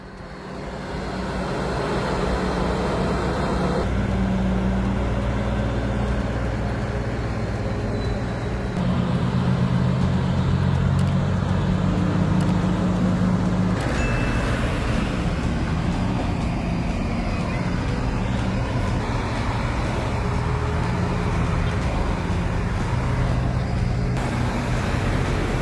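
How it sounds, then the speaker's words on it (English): Powerful heavy-duty trucks from Erga Special Transports haul oversized cargo, producing a loud, steady engine drone that rolls on continuously with no voices. "Oversized cargo is being hauled by Erga Special Transports, whose powerful heavy-duty trucks are capable of pulling hundreds of tons of massive freight."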